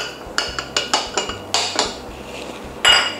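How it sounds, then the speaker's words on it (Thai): A spoon clinks against the sides of a small cup while mocha mug cake batter with cocoa powder is stirred, giving a string of sharp, bright ticks in an uneven rhythm and one louder scrape near the end. "ทีนี้ก็คนให้เข้ากันเหมือนเดิม"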